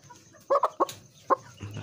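A Batulapak hen, a three-month-old female chicken, gives a few short, close clucks in an irregular rhythm, with quiet background noise between them.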